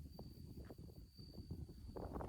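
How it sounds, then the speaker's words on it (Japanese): A bell cricket (suzumushi) gives a thin, steady high-pitched ring, faint beneath wind, footsteps and rustling on the summit of Mount Omuro on the Izu Peninsula, Shizuoka. "スズムシ鳴いてる。"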